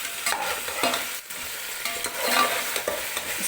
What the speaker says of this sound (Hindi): इसके साथ हमने इसको ज़रा अच्छा सा भूनना है।